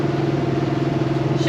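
A vehicle engine with fuel trouble from bad gas labours while climbing a hill, giving a loud, steady, droning hum close by.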